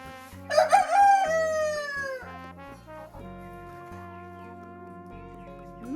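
Chickens in a yard crow loudly at first and then cluck more softly, with flies buzzing close by and no talk.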